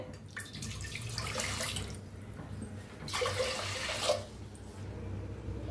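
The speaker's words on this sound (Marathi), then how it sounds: "तीन ग्लास बघा पाणी ओतलंय" Three glasses of water poured in two separate bursts into a metal pressure cooker, a splashy gush each time with quiet pauses between.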